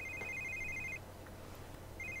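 A mobile phone rings in The Sims 3, its electronic ringtone chiming in two short bursts with a pause between, over a quiet game background.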